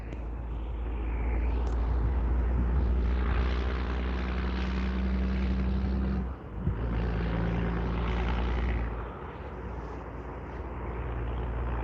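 An Airbus A340 arrives at Vancouver International Airport with a steady, loud broadband jet roar and a low rumble, swelling and easing slightly as it rolls past and heavy braking sets in.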